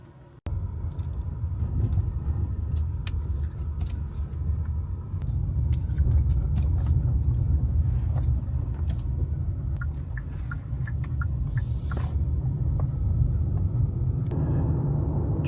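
Steady low road rumble of a car driving along, loud and continuous inside the cabin, with no talk; a few faint higher clicks drift over the engine and tire noise.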